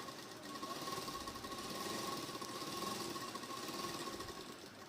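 A sewing machine runs steadily, stitching a straight seam on a salwar, its fast even mechanical rattle close and continuous for several seconds with no talk.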